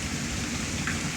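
Steady heavy rain pours onto surfaces outdoors during a severe thunderstorm in Pittsburg, Kansas, a dense continuous hiss with no voices.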